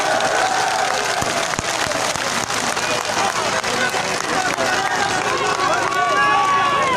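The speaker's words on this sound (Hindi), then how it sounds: "शहरियार के लिए तालियां" A large crowd at a PTI political rally in Kohat claps and cheers loudly and continuously. The dense roar holds steady throughout with whistles and shouts mixed in, and voices carry over it.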